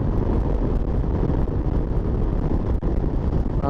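Heavy, constant wind buffeting the microphone while riding a Yamaha MT-09 Tracer motorcycle, a dense roaring rumble with gusty fluctuations, loud and close throughout, as when riding at speed.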